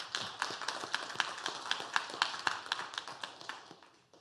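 A church congregation at a Christmas worship service claps at a steady, fairly quick rhythm. The sharp hand claps come through distinctly and taper off toward the end.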